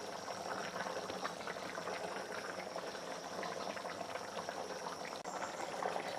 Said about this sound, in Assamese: 2 মিনিট মান এনেকৈ উতলিব